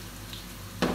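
Shrimp meets hot oil in a pan with squash cooking, a steady background sizzle that suddenly swells into a louder hiss near the end.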